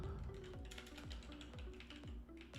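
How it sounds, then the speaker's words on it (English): Rapid, irregular keystrokes on a computer keyboard during a live cryptocurrency market broadcast, soft clicks tapping steadily throughout, fairly faint with no talking. "I'm going to go type that down here."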